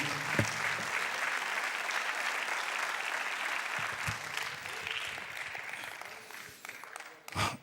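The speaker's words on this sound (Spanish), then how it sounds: "Denle un aplauso al Señor" A church congregation claps for the Lord during a Spanish-language sermon: steady, dense applause sustained across the room at moderate volume, thinning and fading near the end.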